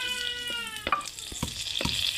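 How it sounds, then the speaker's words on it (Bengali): Dried red chili frying in oil, a soft steady sizzle close by with a few sharp clicks and scrapes from stirring, fairly quiet. "এই যে শুকনা মরিচটি দিলাম তেল।"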